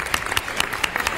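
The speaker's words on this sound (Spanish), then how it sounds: "Fuerte el aplauso para recibir a Diego y Bruno." Studio audience applause welcoming two guests onto a talk show, brisk crowd clapping at moderate loudness with distinct sharp claps standing out over a soft background wash.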